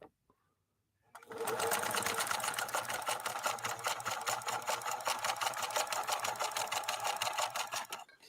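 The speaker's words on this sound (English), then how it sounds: "let's do a zigzag on this bubblegum material, and then we'll try to lay down a straight stitch after that" A 1957 Phoenix 283F sewing machine, German-built by Adler, stitches zigzag on fabric: after a brief quiet start it runs at steady speed, with a fast, even mechanical clatter close up until it stops.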